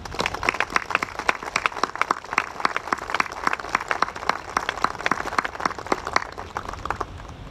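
An audience at a Korean War memorial ceremony in Washington, DC applauds. Dense, steady clapping from many hands carries on for over seven seconds at moderate loudness, with no one speaking over it.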